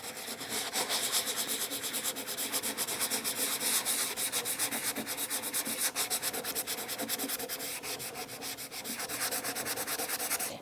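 A sanding block lightly rubs back and forth across stenciled painted wood to distress it, in steady, rapid scratchy strokes that continue without a break.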